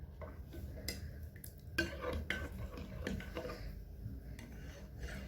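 A spoon scrapes and clinks against a bowl while steamed yogurt pudding mixture is stirred with milk, with irregular light taps and rubbing strokes over a low background hum and no talk.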